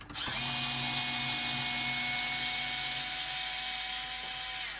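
A power tool fitted with a buffing wheel spins up sharply and holds a steady high whine while buffing a partscaster guitar body, close and loud, with no talking.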